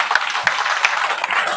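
A dense wash of applause rises from a training-session audience, a brief burst of many hands clapping at once with a few sharper claps standing out.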